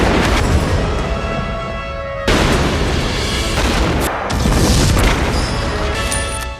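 Heavy booming gunfire and explosive crashes in a wartime battle scene where a sniper rifle is fired, dense loud blasts filling the space continuously with sharp cuts between shots, no voices.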